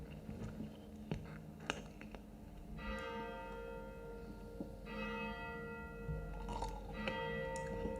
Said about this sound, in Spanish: aprovechar que tocaban las campanas